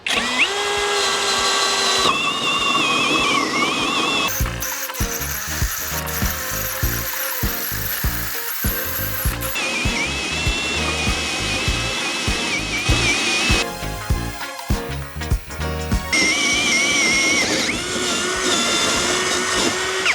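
A GRAND DA 202 DFR cordless drill fitted with a 76 mm hole saw, whining loudly and continuously while cutting, with the motor pitch straining, stuttering and shifting as the saw bites.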